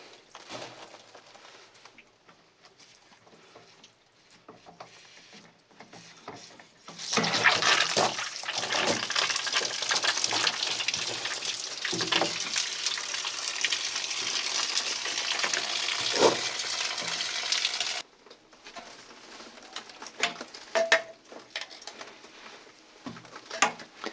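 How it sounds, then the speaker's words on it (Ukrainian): Water runs out steadily while the pressure gauge on a home water pump station is unscrewed, a loud continuous hissing trickle lasting about ten seconds, framed by quieter handling clicks and taps before and after. "Трошки води має збігти."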